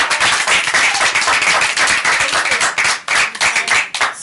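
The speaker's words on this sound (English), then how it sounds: "Let's give him a round of applause." A dense round of applause from an audience, steady hand clapping filling the whole stretch at close, loud level with no talking over it.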